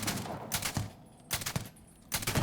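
Bursts of rapid gunfire in the space game Starfield, three short loud volleys with brief gaps between them, with no voices.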